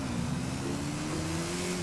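Yamaha R15 motorbike engine in the video game GTA V, a steady, loud, buzzing drone that holds a constant tone with a slight rise, heard alone.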